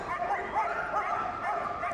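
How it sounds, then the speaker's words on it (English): Police dog Rio, a working dog at a Crufts display, barks and yips in quick repeated bursts, close and fairly loud against a busy arena background. "So little Rio there barks up"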